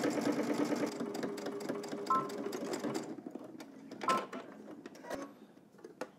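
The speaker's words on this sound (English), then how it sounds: "we're going to head to the machine and stitch both sides down" Sewing machine edge stitching both sides of a garment, running in bursts with brief pauses, close and moderately loud, no talking.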